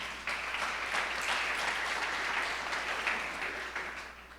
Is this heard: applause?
yes